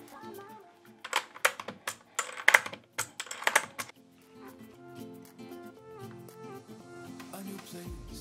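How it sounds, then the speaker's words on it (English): Keycaps and switches are pulled from a mechanical keyboard, giving a cluster of close plastic clicks and snaps in the first half, then soft background music with little handling noise. "we need to start from removing all keycaps and removing all switches."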